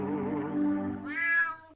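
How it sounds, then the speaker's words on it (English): A house cat meows in a single drawn-out call lasting under two seconds, rising in pitch toward the end, close and clear with no talk over it. "I almost stepped on the cat again."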